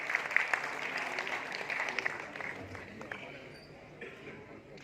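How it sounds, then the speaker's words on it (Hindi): Audience clapping at a Hindi-Urdu poetry mushaira, a crowd's applause with sharper individual claps early on, gradually thinning and fading toward the end, with voices mixed in. "जोरदार ताली बजाते रहें"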